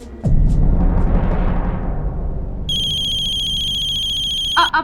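A telephone rings in a tense domestic drama scene, a loud electronic tone that repeats steadily after a sudden dramatic swell of sound, with no one talking over it.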